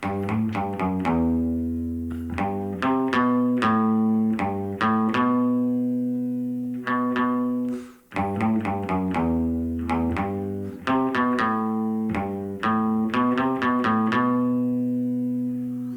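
A distorted electric guitar plays a solo from a song, a lead line of bending, sustained notes and quick runs, loud and upfront with no talking.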